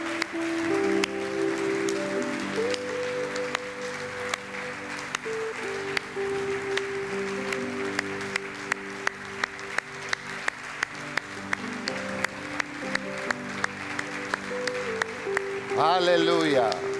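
Congregation applauding Christ in a church service, a steady wash of clapping running under music and a preacher's voice throughout, with sharper rhythmic claps emerging in the second half.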